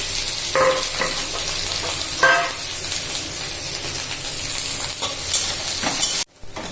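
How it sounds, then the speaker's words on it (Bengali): Chopped onion frying with fenugreek and fennel seeds in a pan, a steady close sizzle with occasional stirring scrapes throughout, ending in a brief cut. "আমার পেঁয়াজটা ভাজা ভাজা হয়ে গেছে"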